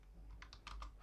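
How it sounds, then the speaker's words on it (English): Fast, uneven keystrokes on a computer keyboard, a quick run of crisp clicks heard close and fairly quiet, with no talking. "I don't know if my keyboard is making noise"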